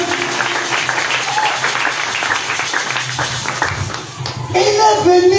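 A church congregation applauds and acclaims Jesus during a sermon, sustained clapping and voices throughout, with a speaker's voice coming through near the end.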